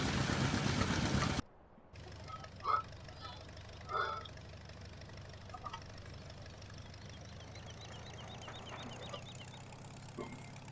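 A multi-cylinder farm engine runs at harvest time, a fairly quiet, steady low hum that continues for several seconds after a burst of louder noise, with a few faint knocks and clatters on top.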